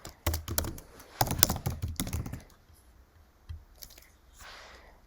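Computer keyboard keys tapped in quick uneven bursts while account details are entered, close and fairly loud, with short pauses between clusters and a softer patch near the end.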